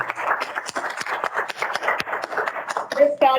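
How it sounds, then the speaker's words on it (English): Sparse applause for a winning team at an awards ceremony, with scattered individual claps close by in a small room, followed by a brief voice at the end. "A big round of applause for them."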